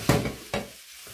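Vegetables tipped into a hot frying pan for butter vegetables with ground beef, two sharp sizzling bursts as they hit the pan and get stirred, each fading into a quieter crackle.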